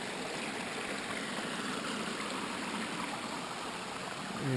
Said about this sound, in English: It's another nice series of small waterfalls and pools.